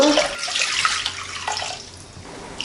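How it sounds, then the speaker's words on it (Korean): Water poured into a pot, one liter for a soy sauce pickle brine, a close splashing gush that is loudest at the start and then thins out over a few seconds, with no talk. "물 1리터 넣으시고"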